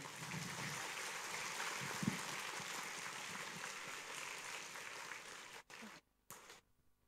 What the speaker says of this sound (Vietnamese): Đại chúng chúng ta cho một tràng pháo tay